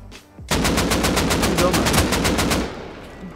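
Rapid automatic AK rifle fire in the Rust console survival game, a loud sustained burst of about twenty evenly spaced shots lasting around two seconds, then the gun falls silent.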